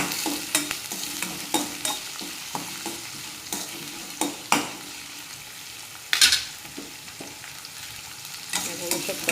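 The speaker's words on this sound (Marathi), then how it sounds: "बघू शकता तुम्ही मस्त मिरच्या पण तडतडत आहेत आणि लसूणही चांगला तळला जाईल" Green chillies and garlic crackle in hot oil for a tempering, giving irregular sharp pops and spits over a low sizzle, with one louder burst of spattering midway, close and unaccompanied by talk.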